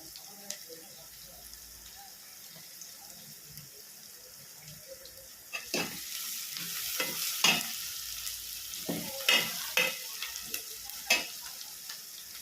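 Onions sizzle steadily in a hot pan, and a utensil stirs them with scraping clinks that come more often partway through.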